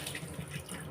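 Banaba leaves rinsed under a running tap, a steady close splash of flowing water across the whole short moment.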